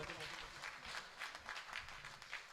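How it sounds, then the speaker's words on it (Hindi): Mushaira audience in Deoband applauding a poet's introduction, a dense, steady wash of clapping at moderate distance that swells and dips slightly, with faint voices mixed underneath. "जोरदार तालियों से इस्तकबाल के मोहतरम आदिल।"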